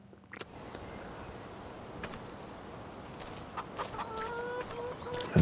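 Flock of chickens in Farming Simulator 25, about ninety hens with young birds and one rooster, clucking steadily at moderate distance with a few sharper squawks scattered through.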